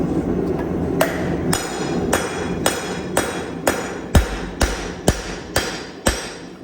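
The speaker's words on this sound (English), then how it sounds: "put my cold rivet in those, get those set up, riveting" A hammer sets a cold rivet on a pair of forged hammer-eye tongs, striking sharp metallic blows about every half second, steady and close, with a dull background hum between hits.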